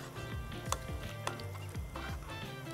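Sauce seasoned with mirin and pepper being stirred in a pan, with a steady soft scraping and sizzle and a few sharp clinks of a utensil against the pan, close and continuous.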